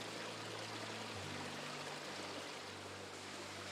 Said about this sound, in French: Le petit ruisseau s'enfile sous terre et on le suit jusqu'à la confluence avec le Verneau.